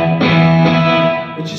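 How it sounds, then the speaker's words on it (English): A cheap Mexican Telecaster electric guitar played clean with no effects rings out with bright, wiry, sustained chords, struck near the start and again just before the end. "This is the sound of this guitar without anything at all added."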